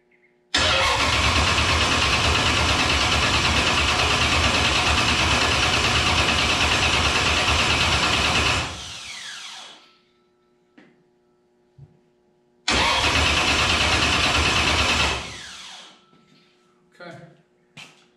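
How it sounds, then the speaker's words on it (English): A 1921 Ford T bucket engine cranked over by the starter with no ignition: two loud, sustained grinding cranking runs, about eight seconds and then two seconds long, separated by a quiet pause with faint clicks. "I'm going to try to crank it over first. I just want to crank it, no ignition"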